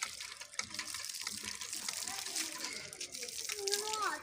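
Water runs steadily from a tap as children drink at a shrine complex in Punjab, a constant splashing hiss with faint voices and a few high squeals over it.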